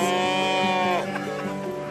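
A cow moos in a commercial cow-calf ranch herd during calf vaccinating and castrating work, one long sustained bellow up close, then fading into rougher, fainter lowing.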